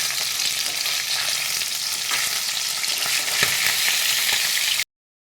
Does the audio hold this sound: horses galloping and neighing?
no